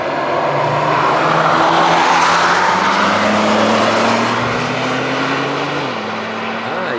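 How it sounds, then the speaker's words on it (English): A Porsche 992.2 GT3 hybrid 911 prototype with an electric powertrain passes by, its whine and engine note rising as it nears, then sweeping down as it moves away, loud and up close. "You can hear the electric powertrain."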